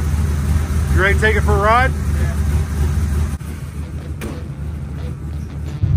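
A 1970 Chevy Nova with a GM 572ci big block, five-speed and ignition timing set to 38 degrees idles with a steady, deep, close rumble while people talk over it.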